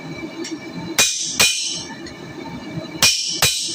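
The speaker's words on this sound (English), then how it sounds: "So less chisel cuts quicker than more chisel" A hammer strikes a chisel cutting through copper, giving four sharp metallic blows in two pairs with short ringing tails over a quiet background hum.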